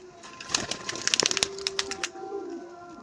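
Madrasi pigeons coo near at hand amid a flurry of sharp clicks and taps, with a soft drawn-out call trailing at the end.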